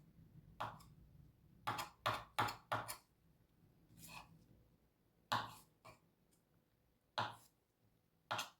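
A knife chops carrots on a cutting board in a home kitchen, giving sharp, close knocks in irregular clusters of single cuts and quick runs with short pauses between.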